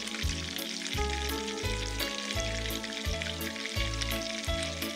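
Beaten egg sprinkled over jali kebab frying in a pan on medium heat, a steady loud sizzle pulsing in a regular rhythm about once per second, with no talking.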